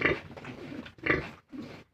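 Pigs and piglets grunt in soft, low, rough bursts on a farm, fairly faint. The grunts come in three short clusters that overlap one another.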